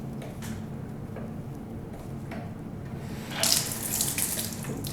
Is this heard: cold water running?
yes